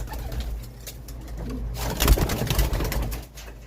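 A flock of pigeons takes off together outdoors, wings flapping in a brief flurry, with cooing and bird calls mixed in over a steady low hum.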